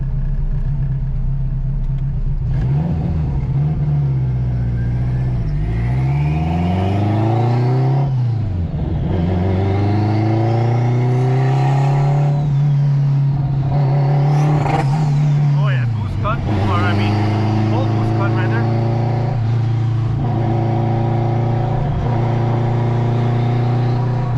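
Straight-piped 800HP AWD 2002 Acura RSX Type-S engine, loud and close from inside the car, revving and rising in repeated sweeping pulls with a deep droning exhaust throughout, while someone talks over it.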